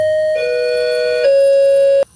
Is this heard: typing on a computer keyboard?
no